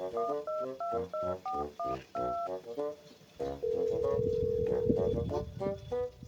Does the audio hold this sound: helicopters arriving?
no